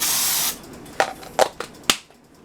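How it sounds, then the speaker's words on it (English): A long hiss of cooking spray sprayed into a cake pan, then a few short sharp bursts and clicks, close and with no talking. "I make sure I spray it well, y'all. I don't want my cake to stick"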